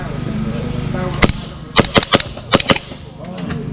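Semi-automatic airsoft gun fired outdoors at an airsoft game, a single crack followed by a rapid cluster of sharp, close shots in quick succession over steady background noise.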